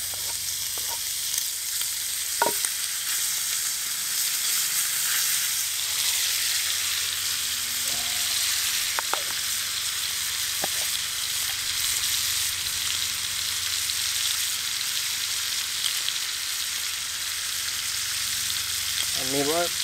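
Pork fries in butter on a Trangia camping stove for Swedish kolbulle, producing a steady, even sizzle with a few light clicks and taps from the pan.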